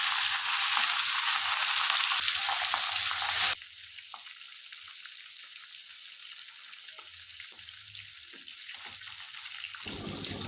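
Salted, turmeric-coated fish fry in oil in a kadai with a strong hissing sizzle at first, then settling to a quieter, steady crackle.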